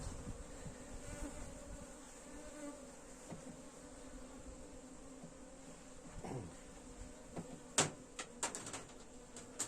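Honey bees buzz around a hive in a steady, dense drone, close and moderately loud, with a few sharper clicks and knocks near the end.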